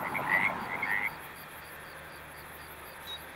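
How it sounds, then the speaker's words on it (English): Pacific tree frogs calling at a pond in the evening, a few raspy croaks bunched in the first second, then a quieter low background with one faint later call. "The ponds come alive each evening with a chorus of Pacific tree frogs"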